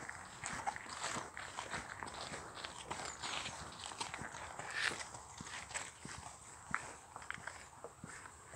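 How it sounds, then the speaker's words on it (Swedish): Hooves of several horses in a field by ancient burial mounds in Sweden, faint irregular thuds and footfalls heard from a distance, mixed with rustling and soft outdoor noise, with no talking. "Där finns massa hästar."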